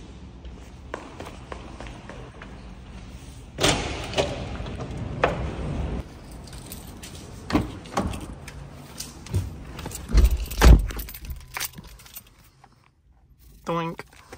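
Getting into a car: scattered footsteps and shuffling lead to a car door opening and thudding shut, with jangling keys and a few sharp taps and knocks close by, then a brief pause and a final rattle.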